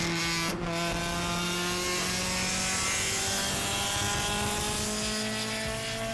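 A worn-out Honda Civic with a loud aftermarket exhaust drones at a steady high rev, a harsh raspy buzz held nearly level throughout, loud and close with no voices.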